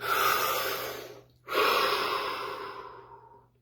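Slow, deep breaths during a guided breathing exercise: a long airy breath, a brief pause, then a second full breath that fades out. The breathing sounds close and steady, with no talking.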